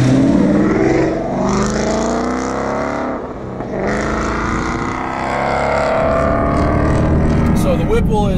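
Supercharged 2015 Ford Mustang GT on air suspension driving, a loud deep engine roar rising and easing with throttle under a voice talking over it.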